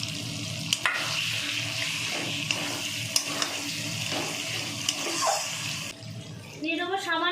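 Chopped tomatoes going into a frying pan for Bengali khasir chaat (mutton): a steady sizzle and hiss with a few sharp clanks of a utensil, then a brief trickle of poured liquid at the end, with a voice speaking.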